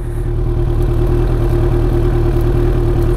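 A Kawasaki Ninja ZX9R motorcycle engine runs steadily at idle with a loud, even low throb and a regular mechanical pulse, no voices over it.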